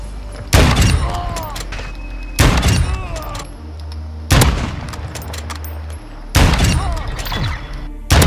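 Gunfire in an online first-person shooter game: four loud bursts of rapid shots with thuds, spaced a couple of seconds apart, with quieter game noise between them.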